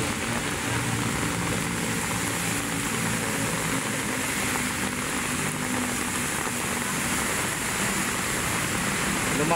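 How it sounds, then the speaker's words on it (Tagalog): Heavy rain pours down steadily outdoors, a dense, unbroken hiss that stays loud and even from start to finish with no voices. "Bumuhos ang ulan."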